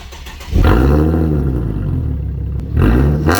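A Nissan 370Z with a manual gearbox revs up loudly and close, its engine note rising and falling through a sweep, then surging again near the end, with no talk.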